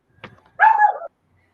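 A dog barks in the background of a talk show, a short muffled yelp followed by one clear, louder bark, then quiet.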